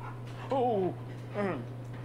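A dog gives two short whining, yelping vocalizations, close by over a steady low hum, with a voice faintly in the background.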